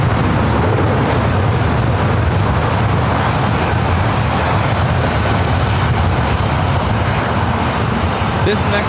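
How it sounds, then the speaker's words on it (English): Southwest Airlines jet taking off at LAX bound for San Jose, a steady broadband engine roar holding loud and constant throughout, with no clear build or fade. "This next takeoff is Southwest Airlines 2231 taking off to San Jose."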